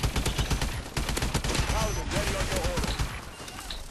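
Gunfire in Call of Duty: Advanced Warfare team deathmatch, with dense, steady rapid shots running the whole time and a few brief chirpy effects mixed in.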